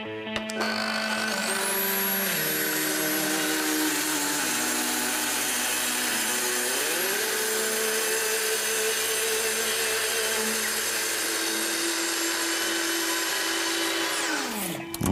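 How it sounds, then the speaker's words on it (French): A plunge saw cutting wood spins up to a high, steady whine and cuts continuously for a long stretch, its pitch shifting slightly under load before winding down. "On va travailler avec la scie plongeante."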